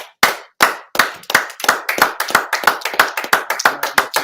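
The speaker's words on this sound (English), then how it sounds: "I'll just clap it up." A congregation at a Sabbath service claps in a steady, rhythmic beat, sharp hand claps repeating about three times a second, close and loud, with no talking.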